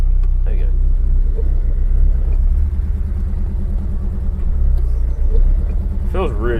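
Citroen DS on the road, a steady low engine rumble with a faint rise in revs, and a voice speaking briefly near the end.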